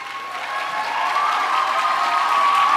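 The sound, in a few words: audience round of applause for grant winners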